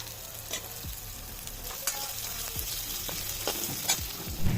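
Onion, garlic, grated ginger, peas and green chillies fry in a pan for a potato chutney, a steady close sizzle broken by occasional stirring scrapes, with no talk.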